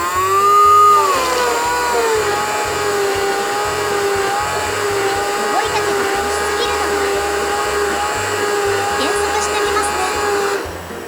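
A PC water-cooling pump runs in a home-built computer, giving a steady loud whirring hum with strong tonal harmonics that rise and settle early on, plus a rhythmic low pulsing underneath, continuous for the whole stretch without speech.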